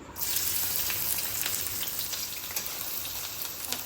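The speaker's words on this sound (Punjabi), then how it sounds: "ਇੱਕ ਕੜਛੀ ਆਪਾਂ ਤੇਲ ਦੀ ਪਾ ਲਈ ਕੜਾਈ ਵਿੱਚ ਹੁਣ ਸਭ ਤੋਂ ਪਹਿਲਾਂ ਜਿਹੜੇ ਆਪਾਂ ਬਰੀਕ ਬਰੀਕ ਪਿਆਜ਼ ਕੱਟੇ ਸੀ ਨਾ ਉਹਨਾਂ ਨੂੰ ਭੁੰਨਣਾ" Finely chopped onions fry in oil in a kadai, giving a steady, close broadband sizzle that holds evenly throughout with a few sharper crackles and spits, and no talking.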